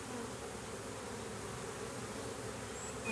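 A honey bee colony hums steadily during a hive inspection, a dense, continuous buzz of many bees close by, with no talking.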